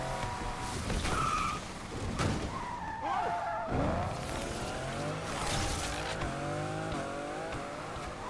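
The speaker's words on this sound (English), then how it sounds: "Can I do donuts in this game? Yeah, I can." A car does donuts in the Need for Speed Unbound video game, tires squealing in long wavering skids over a steady revving engine, loud and continuous throughout with a voice talking over it.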